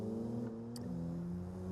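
In BeamNG, a 1.3-litre base-model Corvette from Japan races, its engine droning at steady high revs with a brief shift click partway through. The tone is faint and synthetic.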